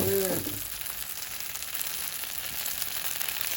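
Rice noodles frying in a hot oiled wok give a steady, close hiss and crackle, with a brief clatter at the start, then an even sizzle on its own.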